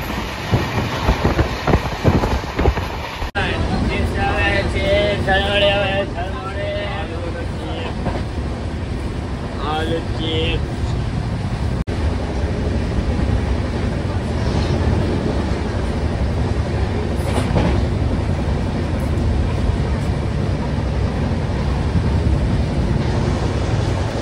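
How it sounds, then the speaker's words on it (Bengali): A passenger train on the Guwahati to Howrah route runs at speed, a loud steady rumble with rhythmic clatter of wheels on rail joints; a few brief tonal squeals ride over the din, with some speech-like sound early on. "ট্রেনটা ভালোই স্পিডে আছে"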